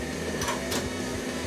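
A professional video tape deck's mechanism runs after a cassette is loaded, giving a steady mechanical whir with a couple of brief louder clicks or swishes near the start.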